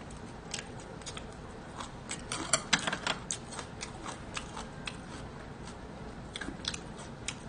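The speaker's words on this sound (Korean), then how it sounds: "아삭아삭하네." Someone bites and chews crisp food during an eel rice bowl meal, giving close, irregular crunches that cluster in the middle before softer chewing continues.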